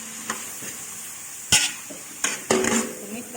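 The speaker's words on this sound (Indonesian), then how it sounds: "Kita tumis bawang." Onions sautéing in melted butter sizzle steadily in a pan, broken by sharp metallic scrapes and clanks of a spatula stirring and tapping; no speech is heard.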